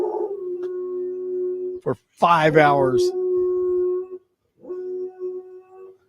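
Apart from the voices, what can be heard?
neighbor's dog howling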